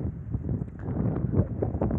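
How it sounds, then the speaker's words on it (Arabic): Steady wind buffets the microphone outdoors, a continuous low rumbling roar that fills the whole stretch with no voices or other sounds. "في لا فيديو، غادي تسمعوا الريح"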